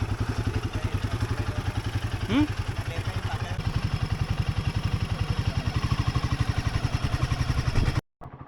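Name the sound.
two motorcycles riding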